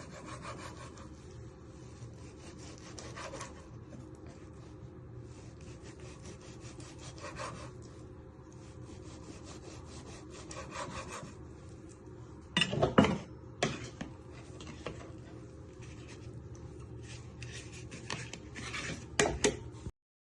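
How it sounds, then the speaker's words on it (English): A knife slices pork steaks on a chopping board in a home kitchen, with soft repeated rasping strokes and a couple of sharper knocks against the board, close and fairly quiet, with no talk. "So you just keep slicing them."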